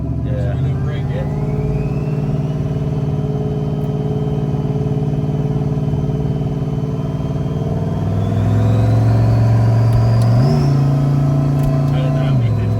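Supercharged 426 engine of a Jeep Trackhawk droning steadily at close range while driving, its tone rising before a sudden downshift near the end briefly lifts the revs.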